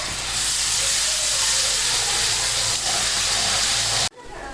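Steady loud hissing sizzle of hot oil heating for a tempering in a home kitchen, continuous and close, stopping suddenly just before the end.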